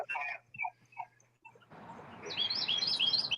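Loud birds chirp and tweet outdoors at a carp fishing bank during a fishing tournament; someone talks first, then a dense, bright chorus of close chirps fills the last second and a half.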